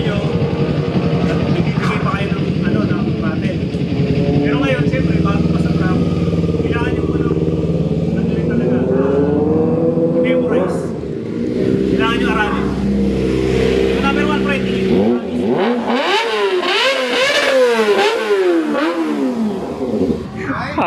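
A Kawasaki ZX-25R motorcycle on a race track holds a loud, high-pitched engine drone, then revs hard through repeated rising and falling sweeps as it shifts gears, with talking mixed in.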